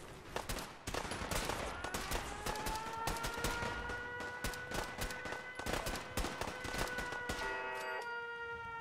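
A laser gatling gun in Fallout 4 fires in long continuous bursts of rapid, crackling shots, loud and close, with a rising whine underneath and a brief pause before firing resumes near the end.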